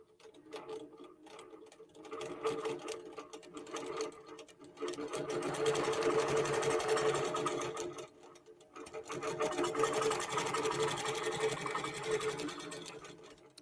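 QBOT V3 Pro quilting sewing machine stitching a quilt section, a steady rapid mechanical chatter that runs loud and close in two long passes with a brief pause between, no talk over it.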